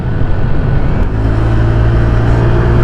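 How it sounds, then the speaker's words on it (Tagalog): A Honda Click scooter engine is revved hard with the throttle, a loud, close, sustained mechanical drone that climbs and holds steady, with no talking. "Ang sarap pigain nung kanyang throttle kapag bago pa, ano."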